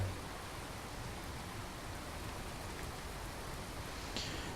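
Steady pouring rain in the Skyrim video game, a dense continuous hiss of heavy rainfall with no letup, with a faint brief chime near the end.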